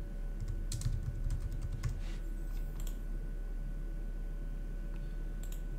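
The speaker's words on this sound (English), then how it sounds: "We'll type in storage account." Computer keyboard typing, a quick burst of clustered keystrokes at moderate distance over a steady electrical hum, then a pause and a final few taps.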